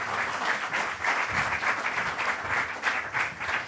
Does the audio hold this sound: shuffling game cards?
no